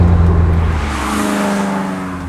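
A Lotus Elise Cup 250 Final Edition sports car engine drones steadily from the cabin, a loud continuous hum with the pitch easing slightly, heard alone without talk.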